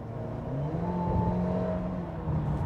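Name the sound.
Mercedes-Benz GLB 250 engine heard in cabin, hard acceleration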